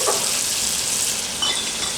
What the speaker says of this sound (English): I hear water boiling